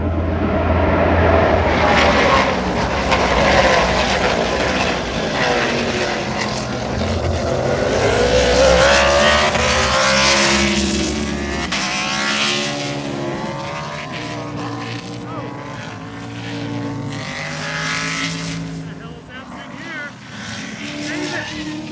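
Trans Am Speedtour race cars roar past turn 5 at Road America during the Cheese Capital Cup, engine notes rising and falling as they pass, loud and continuous, with excited voices talking over them.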